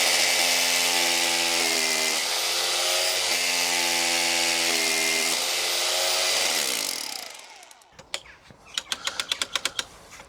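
A power drill runs hard and steadily into a concrete hole as it is re-drilled for a heavy-duty screw. It winds down near the end, followed by a few sharp knocks and rattles.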